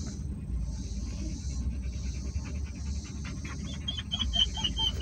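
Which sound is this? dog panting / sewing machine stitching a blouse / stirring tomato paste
dog panting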